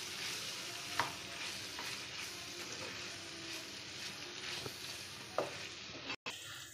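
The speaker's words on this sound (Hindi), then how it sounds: "और इसे मिक्स कर लेंगे इस मसाले में हम।" Fried guar beans are stirred into sizzling masala, with a steady frying hiss and occasional sharp scrapes and clicks of the spoon against the pan, close and alone with no talking.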